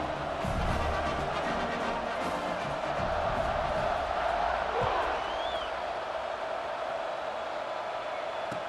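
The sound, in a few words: football stadium crowd cheering after touchdown drive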